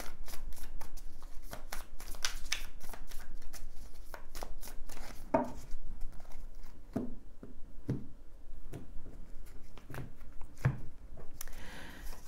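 Tarot cards being shuffled for a reading, giving a run of soft riffling and shuffling bursts with a few sharper slaps and taps, close up, steady throughout and without any talk.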